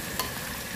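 Oil frying in a hot pan gives a brief, steady crackling sizzle close by, with one small pop near the start and no talking.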